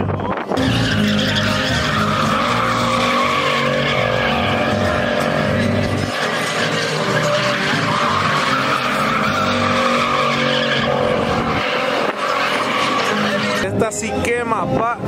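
A truck does a burnout at a Sideways Sunday event in Colorado, its tires screeching continuously and loudly over a roaring engine for the whole stretch, while people talk nearby.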